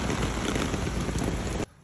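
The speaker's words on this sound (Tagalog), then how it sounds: "pagkaiwas sa ulan na malakas" Heavy rain pours in a loud, dense, even hiss that cuts off abruptly just before the end.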